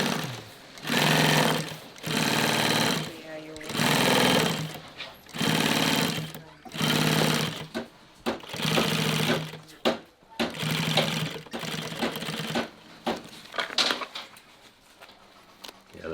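A sewing machine runs in repeated bursts of rapid needle stitching, each lasting about a second with short pauses between, loud and close, while people talk over the later bursts.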